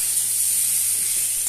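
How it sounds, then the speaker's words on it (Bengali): Potatoes fry in a pan with a steady, close sizzling hiss that holds evenly throughout, with no talking. "আলুগুলো আমার ভালোভাবে ভাজা হয়ে গেছে।"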